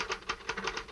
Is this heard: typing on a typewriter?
yes